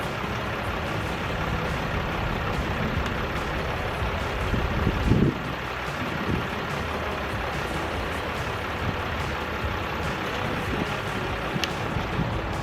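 Camper van engine idling with a smoking battery fault, a steady low rumble heard close and continuous, with a brief thump partway through and no talk.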